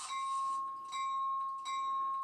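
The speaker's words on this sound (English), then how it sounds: "Okay, we have a bell." A Rapido Amtrak Downeaster model train sounds its electronic bell, three clear metallic rings in a steady rhythm, close and moderately loud with no talking over it.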